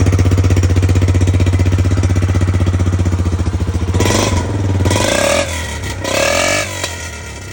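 A loud, raw single-cylinder ATV engine with a gutted muffler idles with a rapid, rough putter, then blips and revs in short bursts, harsh and unmuffled, close by.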